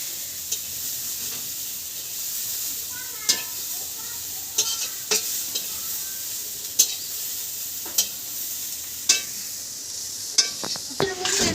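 Water spinach frying in a wok during a home lunch cooking session, a steady soft sizzle broken by a dozen or so sharp clinks and scrapes of a utensil against the pan, close and moderately loud.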